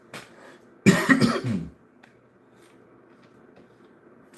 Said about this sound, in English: Man, this cough just won't quit.